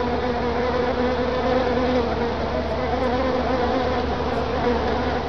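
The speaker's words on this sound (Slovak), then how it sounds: "Výnimkou tak nie sú ani včely, ktoré už uskutočňujú prvý prelet a svojim intenzívnym zukotom vítajú jarné obdobie." Honeybees buzz intensely at the hive in early spring as they make their first flights, a dense, loud, continuous hum from many insects close by with no voices.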